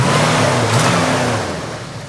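A classic car's engine runs steadily at a loud, close idle with a slight rise in revs, then the level gradually eases off, alone with no talking.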